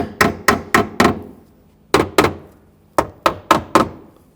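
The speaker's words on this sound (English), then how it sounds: "Use a hammer, just a small hammer, and tap them in" Small hammer tapping fasteners into rear lower shock mounts on a 2007-2013 BMW 328i: three quick bursts of close, sharp metallic taps, about four evenly spaced blows each with ringing decay, separated by short pauses.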